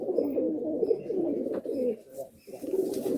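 Madras pigeons at a full-loft sale in Budge Budge, South 24 Parganas, give repeated close, throaty coos in a rolling rhythm with short pauses between phrases.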